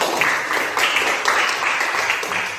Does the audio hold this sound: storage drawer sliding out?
no